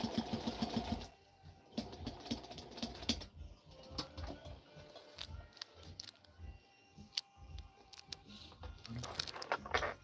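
A sewing machine fitted with a velvet foot stitches in short bursts, its rapid mechanical whir starting and stopping close by, with a louder busy stretch at the opening and intermittent clicks and runs afterward.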